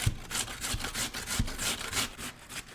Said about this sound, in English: It takes maybe a minute to grate one big russet like this.